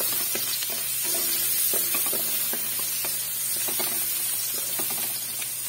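Garlic, onion and tomato sauté in a pan for a Filipino pinakbet with shrimp, giving a steady close sizzle with scattered stirring clicks and scrapes throughout, no talk.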